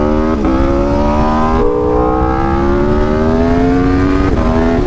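An Aprilia RSV4 RF Limited Edition motorcycle engine revs loudly and up close, its pitch climbing smoothly through the gears with brief dips at each shift.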